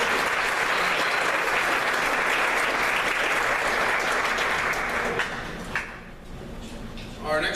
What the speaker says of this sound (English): Once again, a round of applause for your 2015 senior class